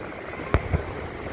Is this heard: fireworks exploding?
yes